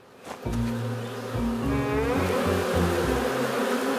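Cartoon bees in an animated kids' show buzzing steadily, a dense layered drone of wavering tones that starts after a brief onset and continues loud throughout.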